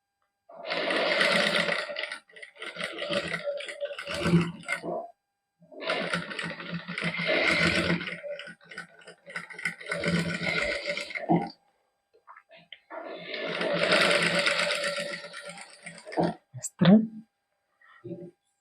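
A sewing machine stitches the neckline of a lined shirt in four bursts of rapid, close, buzzing stitching, each lasting a few seconds and separated by brief pauses, with a few knocks near the end.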